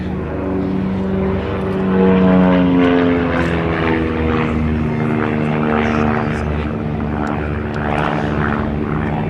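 Propeller aerobatic aircraft of the Titans display team, including a Decathlon, loop and turn overhead at Abingdon, a loud droning engine note that rises and falls in pitch as the aircraft climb and dive, with a commentator's voice underneath.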